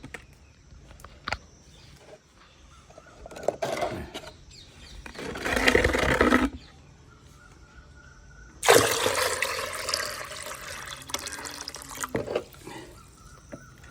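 Water running and trickling in a guppy fish tank setup, with two louder bursts of splashing, pouring flow separated by a quieter steady trickle with occasional drips, close by.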